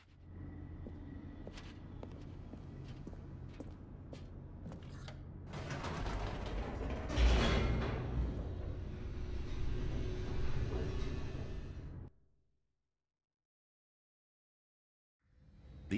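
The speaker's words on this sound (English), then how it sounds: "The elevator raced downward, plummeting towards an unknown fate." Mechanical creaking and grinding as an elevator descends in the video game The Stanley Parable: Ultra Deluxe, a steady rumble with clanks that swells into a louder rushing roar before cutting to silence.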